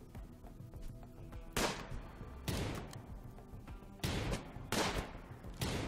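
Bursts of gunfire in the RimWorld 40k mod, with several loud volleys of shots over a steady game background.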